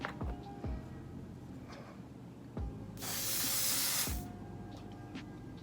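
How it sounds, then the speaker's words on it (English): A single sustained hiss of high-hold hair spray lasting about a second, amid quiet clicks and handling noises. "next I'm going to take this high hold spray"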